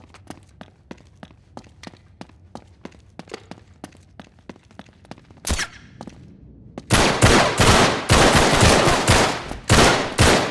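Gunfire in an Uncharted game: a long run of sharp single shots at an even pace gives way to loud, rapid bursts of automatic fire.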